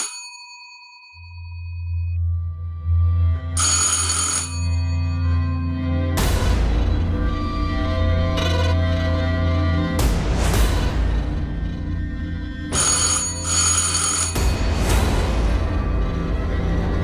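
A telephone rings unanswered indoors, with repeated bright electronic ring bursts separated by pauses over a steady low hum; no voices.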